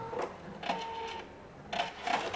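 An embroidery machine runs with no thread loaded, giving off a busy mechanical whirring and clatter in short bursts with brief pauses between, close and moderately loud, with no voices.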